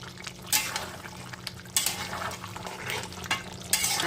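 Onions and chili powder are stirred in hot oil for a chicken dish, with rhythmic utensil scrapes against the pan roughly every second or so over a bright, steady sizzle.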